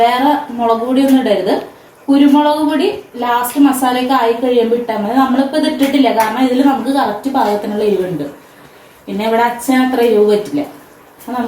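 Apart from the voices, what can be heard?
No everyday noises stand out.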